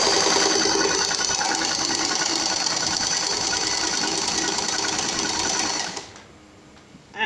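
A sewing machine stitches smocking on dress fabric in a steady, loud, rapid mechanical run for about six seconds, then stops abruptly, leaving quiet room tone and a small bump at the end.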